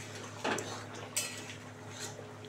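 A lid lifted off a pan of egg, onion and potato curry cooking on a home stove, one brief metallic clank followed by a second lighter clink, close over a faint steady hum.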